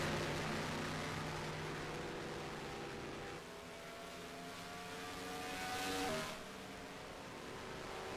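A race car engine in a Maverick Cup Series racing game at Finger Lakes roars steadily with shifting pitch, one car howling past with a brief swell, loud and close with no talk.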